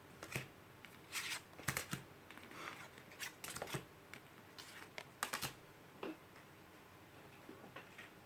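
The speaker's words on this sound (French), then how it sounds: "Je range toutes les cartes." Tarot cards being gathered and shuffled up close, a quiet run of crisp riffles, taps and flicks in an uneven rhythm, with no voice.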